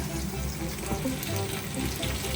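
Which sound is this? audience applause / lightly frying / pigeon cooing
lightly frying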